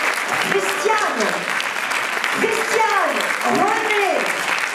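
Applause at a musical show, continuous steady clapping from an audience throughout, with a voice speaking over it.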